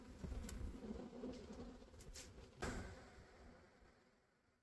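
A large honeybee swarm being hived hums as a steady dense buzz throughout, close and fairly loud, with a few brief clicks and knocks, fading slightly toward the end.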